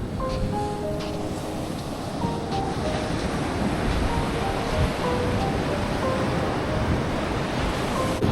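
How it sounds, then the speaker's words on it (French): Atlantic Ocean surf breaks on the beach at Muanda in Kongo Central, DR Congo, as a continuous broad roar of waves mixed with wind. No one speaks. "Vous pouvez entendre le bruit de l'océan."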